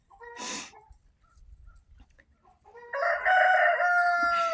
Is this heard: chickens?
yes